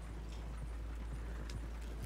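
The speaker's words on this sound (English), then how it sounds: "At least my horse is coming along." Horse hooves clip-clop at an even walking rhythm in the video game Red Dead Redemption II, close and steady over a low constant hum, with no talk.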